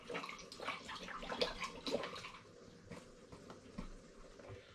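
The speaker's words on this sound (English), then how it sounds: "I'm going to add the other carton of apple juice also." Apple juice pours from a carton into a cider fermentation vessel, a close, quiet gurgling splash that is strongest in the first half and gradually thins out.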